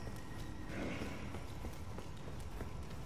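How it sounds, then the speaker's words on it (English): Footsteps in the video game Elden Ring, a steady rapid patter of thudding steps with a hoof-like clip-clop rhythm, running continuously under a dense game soundscape. "I can hear his footsteps, bro."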